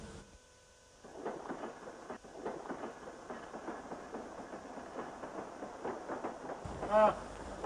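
A train runs steadily with a rhythmic clatter of rolling wheels over the rails, starting after a quieter moment and continuing throughout, with a brief louder tonal sound near the end.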